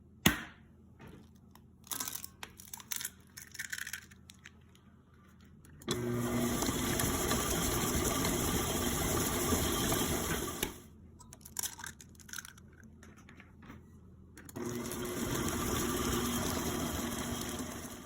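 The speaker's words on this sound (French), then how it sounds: "On va maintenant ajouter les œufs un par un, puis mélanger entre chaque ajout." An electric mixer beats eggs into Linzer cookie dough with rainbow sprinkles. It whirs loudly in two sustained runs, each lasting several seconds, with quieter clinks and handling noises before and between them.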